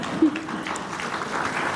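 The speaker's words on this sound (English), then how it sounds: "You can now continue to clap." Convention delegates keep applauding, a steady wash of clapping in a large hall that holds level throughout the moment.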